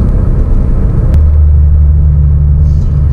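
A Hyundai Veloster Turbo pulls at full throttle, a heavy, close engine rumble that steadies into a firmer drone as the pull continues. No one speaks.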